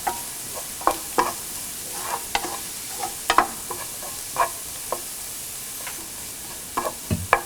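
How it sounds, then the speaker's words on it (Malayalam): Asafoetida powder being mixed into a frying mixture on a low flame for rava idli, with a quiet, even sizzle broken by spaced spoon scrapes and taps against the pan. "നമുക്കിനി ലോ ഫ്ലെയിമിൽ വെച്ചതിന് ശേഷം നമ്മൾ എടുത്തു വെച്ചിരിക്കുന്ന കായം പൗഡർ ഇട്ട് ശരിക്കും മിക്സ് ചെയ്യുക."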